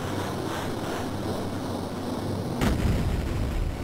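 Alien gunfire shooting down Duke Nukem's ship in Duke Nukem 3D, a rumbling wash of blasts and roaring noise with a sharper burst hitting near the end.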